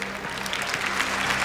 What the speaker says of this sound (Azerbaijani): siz də düzgün cavabları xahiş edirəm alqışlarla bildirəsiniz